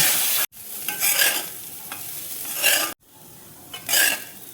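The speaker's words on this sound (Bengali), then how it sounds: "5 মিনিটের মতন দেখো আমি নেড়ে নেব।" A spatula scrapes and stirs through sizzling Gobindobhog rice frying in ghee in a wok, strokes coming in bursts about a second apart over a continuous frying hiss.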